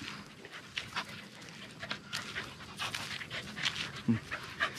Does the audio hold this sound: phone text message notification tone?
no